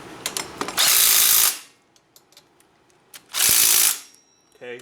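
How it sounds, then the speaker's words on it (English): A power driver tightening the front brake caliper bolts on a Banshee bike whirs in two short, loud bursts about two seconds apart. Light tool clicks and handling noises fill the gaps between the bursts. "go ahead and take and tighten your caliper up"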